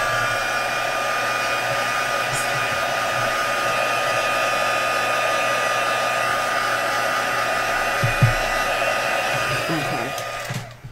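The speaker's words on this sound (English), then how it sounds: "I'm going to hit this real quick with the heat gun." A heat gun blows steadily and loudly for about ten seconds, drying blue craft ink on a paper project, with a whining hum before it cuts off near the end.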